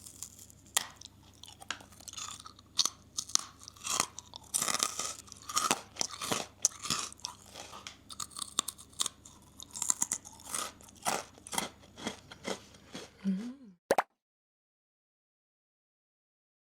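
Close, crisp crunching of a hard biscuit being chewed, a steady run of sharp cracks and munches, then sudden silence.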